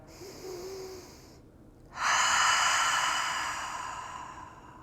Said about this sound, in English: giving yourself a cleansing breath